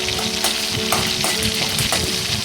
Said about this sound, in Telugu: తాలింపు వేసి కర్రీ చేశాను.